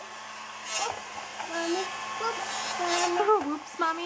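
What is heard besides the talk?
hair blow dryer blowing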